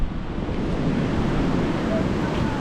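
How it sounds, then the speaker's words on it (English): Choppy sea waves breaking on a pebble beach in Wales, a continuous close roar of surf with wind buffeting the microphone throughout. "Choppy sea."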